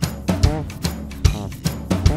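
A voice imitates a tuba with the mouth, giving a low buzzy tone in a loose repeating pattern of short pulses that come about every half second, loud and close, with no other sound around it.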